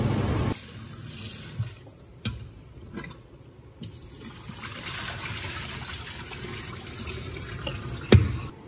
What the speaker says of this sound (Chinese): 用净湿机给猪肉净化一下。